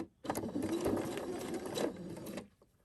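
A sewing machine stitches a quilt block in one short, quiet, steady burst of fast needle whirring that stops abruptly near the end.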